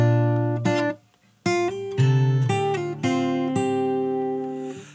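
Fingerstyle acoustic guitar plays the second bar of a song's chorus, with plucked notes and percussive hits in a clear repeating rhythm, a brief gap near one second, and no voice over it.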